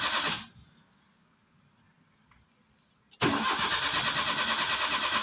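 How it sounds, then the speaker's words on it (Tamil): A broken-down Maruti car on the road: a short starter burst, a quiet pause, then a loud sustained pulsing whir as the self-starter cranks without the engine catching. "இப்போ பாருங்கள், நான் செல்ஃப் போட்டு பார்க்குறேன், என்ன ஆகுதுன்னு நீங்களே பாருங்கள்."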